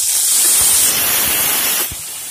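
Chopped tomatoes hit a hot pan with frying garlic for idli chutney, giving a loud, steady sizzle and hiss that drops off near the end.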